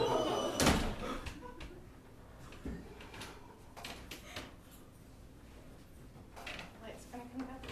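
A door slams on a fringe comedy stage with one loud sharp bang, followed by scattered knocks and thuds amid a voice talking.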